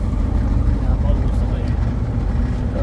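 Fishing boat engine running on Kawa Kawa Bay, a loud, close, steady low rumbling drone with faint voices underneath.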